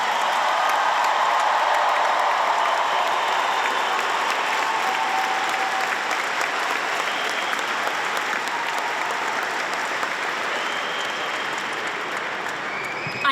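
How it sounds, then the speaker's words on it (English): A large audience at a Baker High School graduation ceremony for the class of 2026 breaks into loud, sustained applause for the graduates, a dense wash of clapping and crowd noise that holds steady for the full stretch and eases slightly near the end. "Let's start off with some loud rounds of applause for all of our graduates."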